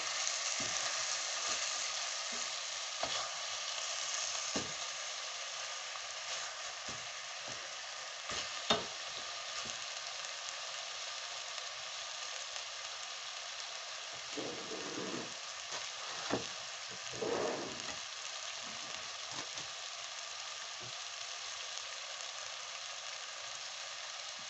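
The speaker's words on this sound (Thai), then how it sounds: "ผัดให้เขารัดตัวสักนิดค่ะ" Meat stir-fried in a hot pan, sizzling steadily and close throughout with repeated scrapes and clatters of the spatula against the pan, no voices over the frying.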